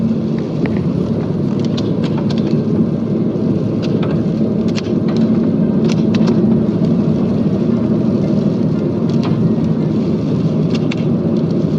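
Steady rain drums on a car during a road trip from Bangalore to Kudremukh, a constant loud wash of noise with engine drone underneath and scattered sharper drop ticks, no voices.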